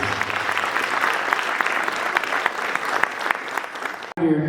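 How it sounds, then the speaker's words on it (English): A crowd applauds loudly and continuously for several seconds, dense clapping that cuts off abruptly near the end. "Round of applause."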